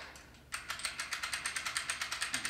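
Crank cocking device ratcheting on a Wicked Ridge M-370 crossbow: a rapid, even run of sharp mechanical clicks, roughly seventeen in two seconds, close and loud with no talk.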